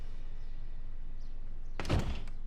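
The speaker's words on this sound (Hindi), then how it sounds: "दरवाजा खुल क्यों ना रहा?" A door is tried but won't open, giving a single dull thump and rattle against a steady background hum.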